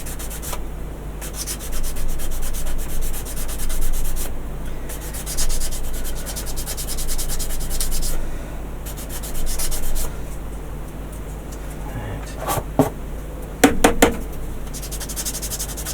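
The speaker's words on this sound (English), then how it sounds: "So down here we want to sand that off." A Zoids Liger Jager plastic model kit piece has a seam sanded off with steady, close rubbing strokes that run almost continuously, pausing briefly near the end.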